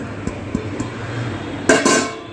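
Spices are stirred into chopped coriander in a bowl: a few light spoon taps against the dish, then a short louder clatter of utensil on bowl, close and without speech.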